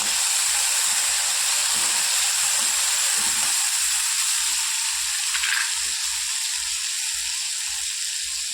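Tomatoes hit browned onions in a hot pan for sambar, giving a loud, steady frying sizzle and hiss that runs unbroken throughout.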